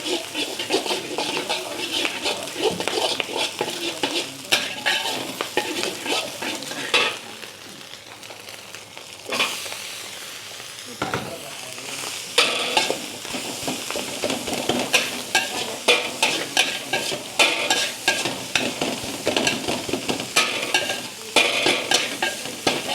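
Fried rice being stirred and tossed in a cracked wok, with a steady run of scraping, clanking metal strokes over constant sizzling, close and busy for over twenty seconds with a brief quieter lull partway.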